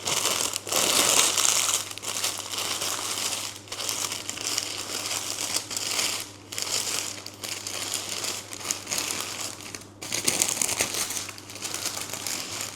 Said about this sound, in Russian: Застилаем чистой пергаментной бумагой бисквит и в горячем состоянии сворачиваем